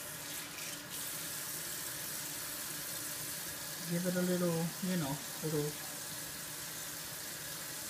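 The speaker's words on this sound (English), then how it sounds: "Washing my hands again. I'm sorry the water's on." A kitchen tap runs with a steady hiss while hands are washed during home cooking, and a voice speaks briefly over the flowing water midway.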